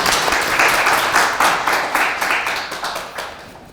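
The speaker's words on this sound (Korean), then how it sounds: "큰 박수 부탁드립니다" Audience clapping after a special lecture at an urban design executive course, dense applause that swells early and then gradually fades, with no voices.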